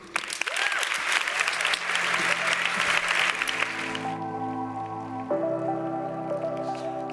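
An audience at a Weight Watchers International show applauds loudly for about four seconds, then the clapping cuts off and sustained musical tones take over.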